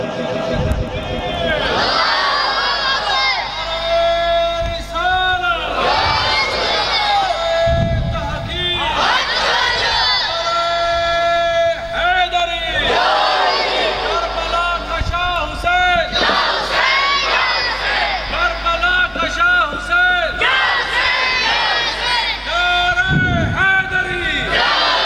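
A large crowd at a religious sermon roars slogans in unison, repeated loud chanted bursts answering a leader's calls, with a dense mass of voices echoing through a gathering.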